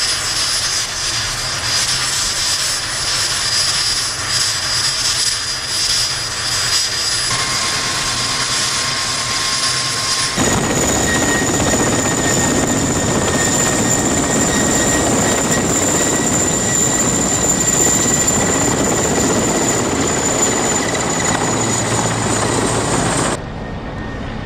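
An icebreaker's helicopter runs loud and steady with a whining turbine and a thick rotor roar. The sound grows heavier and fuller partway through as it powers up, then cuts off sharply at the end.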